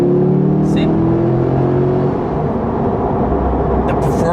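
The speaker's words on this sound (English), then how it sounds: "The engine is a lot louder." A C8 Corvette in track mode gives off a loud, droning engine note with a rising harmonic hum that shifts into a rougher roar, and one short spoken word cuts in.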